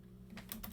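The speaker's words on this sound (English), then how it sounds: "I'm going to type in log neighbor" Router commands are typed on a computer keyboard, making a brief cluster of three faint, crisp keystrokes in under a second.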